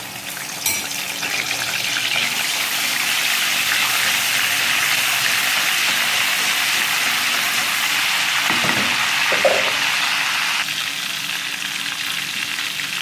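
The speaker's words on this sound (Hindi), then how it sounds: "अदरक लहसुन का पेस्ट भूनने के बाद" Ginger garlic paste frying in hot oil for prawn karahi, a steady loud sizzle that continues close up without pause or speech.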